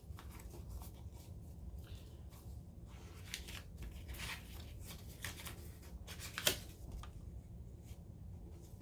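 Paper envelope pieces folded together by hand, giving soft, faint rustles and crinkles with one sharper crease or tap partway through, close and quiet, without talk.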